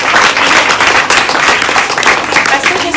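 Applause for the teachers of a school in Cameroon, a short burst of loud, close, dense clapping mixed with voices.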